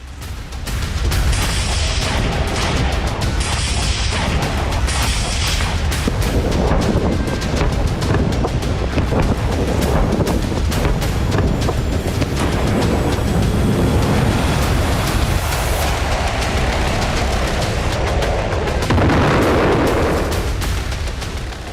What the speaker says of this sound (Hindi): बेरूत पर बरसे बम